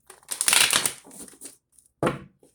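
Tarot cards are shuffled by hand in a quick riffling, crackling burst, then a pause and a second shorter shuffle, close and fairly loud with no talking.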